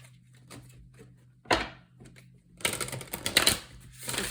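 Oracle cards being handled and shuffled, with a sharp riffle near the middle and a longer burst of dense, papery flicking and snapping toward the end, close and fairly loud, no talking.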